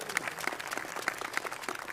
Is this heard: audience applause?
yes